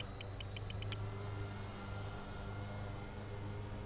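An RC VTOL model aircraft hovers with a faint, steady motor drone and hum, broken by a short series of quick electronic beeps near the start.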